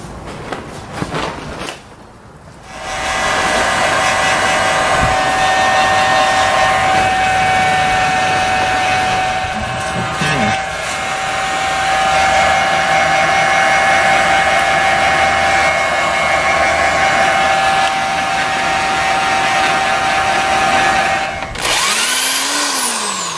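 A heat gun blows a steady, loud whoosh for about twenty seconds while shrinking heat shrink tubing on wiring during a baseplate install on a 2014 Dodge Durango R/T tow vehicle, starting and cutting off abruptly.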